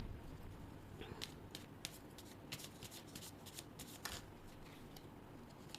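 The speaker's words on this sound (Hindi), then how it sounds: "अब हम दूसरे डेक में से लेते हैं 1-2 कार्ड।" Tarot cards are shuffled close to the mic in soft, uneven riffling bursts with crisp flicks and snaps. The sound stays quiet against a low background hum, with no talking.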